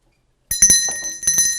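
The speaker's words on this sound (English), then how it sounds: "as soon as I ring the bell, we go" A bell rung to start a timed contest on a television game show, sounding as bright metallic rings with sustained tones, two strikes about a second apart after a brief silence.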